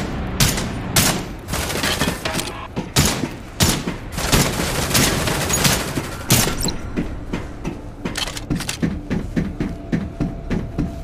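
Gunfire in the Android open-world survival shooter Project: Arrival: loud, rapid bursts of shots and booming impacts follow one another almost without pause, with no talk over them.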